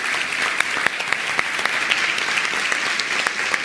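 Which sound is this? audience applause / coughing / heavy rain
audience applause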